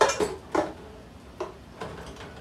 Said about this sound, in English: So I'm gonna scrape all this stuff in there.